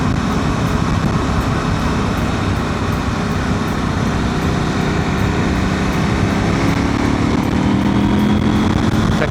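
A KTM 790 Adventure motorcycle engine with a modified ECU pulls smoothly up through the rev range on a road, a loud, continuous throbbing drone heard from the rider's position with wind noise throughout.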